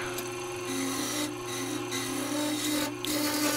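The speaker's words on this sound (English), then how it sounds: "hollowing out this log" A bowl gouge hollows out a wooden log spinning on a lathe for a lampshade, giving a steady, loud rasping scrape with a constant motor hum, briefly easing at a few moments, no voices.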